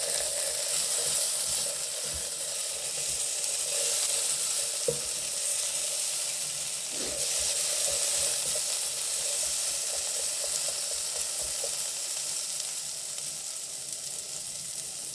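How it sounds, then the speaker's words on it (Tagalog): Hot oil spatters and sizzles steadily in a frying pan as corned beef cooks, a dense continuous crackle with a few sharper pops rising above it. "Talsik-talsik ang mantika."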